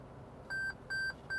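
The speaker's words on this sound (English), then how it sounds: "So when you're outside the lane, well, it's gonna beep." Lane departure warning in a 2020 Toyota 4Runner Venture: three short, evenly spaced electronic beeps, clear and steady, sounding inside the cabin over a low road hum.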